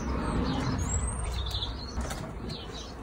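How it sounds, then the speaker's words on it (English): A pigeon's wings flap in a loud, fluttering burst close by in a backyard, followed by softer wing noise and faint chirps. "Look at the pigeon."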